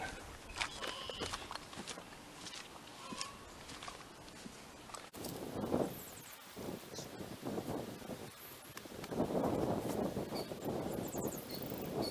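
Wind blowing across an outdoor garden, gusty rumbling buffets on the microphone with rustling and a few footsteps, rising and falling in strength.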